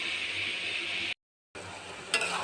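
Kohlrabi bhaji with onion and spring onion sizzles in a pan, a steady hiss that cuts out briefly, then resumes with a short clink of a utensil.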